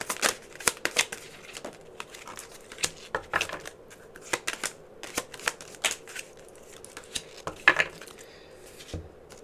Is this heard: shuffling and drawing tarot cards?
yes